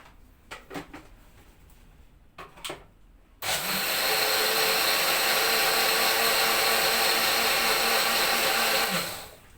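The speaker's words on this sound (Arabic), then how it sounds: "هنحط هنا كوبايه اللبن، هنضربه في الخلاط" An electric kitchen blender mixing a cup of milk with sugar starts abruptly after a few quiet clicks and handling sounds, then runs loud and steady with a high whirring motor for several seconds before cutting off.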